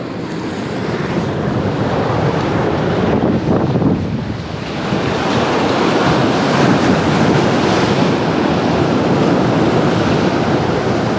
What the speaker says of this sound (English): Let's watch this swell.